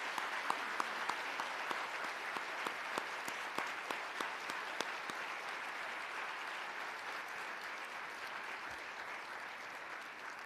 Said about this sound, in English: Please join me again with a round of applause.